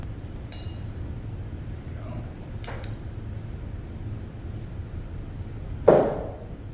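Metal parts of a Volvo Penta SX sterndrive lower unit clink during disassembly, a few sharp isolated taps and a brighter clank near the end over a quiet low hum.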